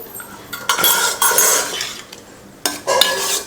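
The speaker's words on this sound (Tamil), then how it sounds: "சிம்மில் வச்சுட்டு தான் நான் கிளறி விட்டுட்ருக்கேன்" Spatula scraping and clattering against a pan while egg fried rice is stirred over a low flame, a repeated close metallic stirring with a faint background hiss.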